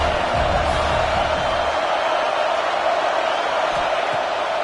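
A football stadium crowd at an MSU game roars as one dense, continuous wash of noise, loud and sustained throughout, with no single voice standing out.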